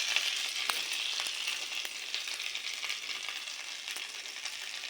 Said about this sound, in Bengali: তেলটা থেলল, তাতে আমি দিয়ে দেব গোটা জিরে